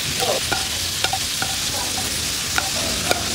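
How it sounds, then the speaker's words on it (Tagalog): Kikiam and fishballs deep fry in plenty of oil, giving a steady close sizzling hiss broken by scattered pops and light clinks as they are stirred, with no speech. "Iprito na natin sa maraming mantika. Maganda kasi dito, deep fry talaga."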